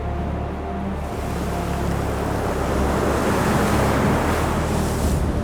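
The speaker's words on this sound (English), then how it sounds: "There are enormous rolling swells. The winds are gusting to 60 knots, and more is coming." A howling gale gusting to 60 knots and big rolling ocean swells pound a racing yacht on the open sea, with a loud, continuous roar of wind and surging water close to the microphone.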